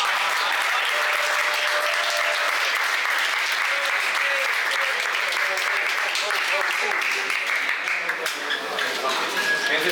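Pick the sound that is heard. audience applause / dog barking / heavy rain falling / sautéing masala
audience applause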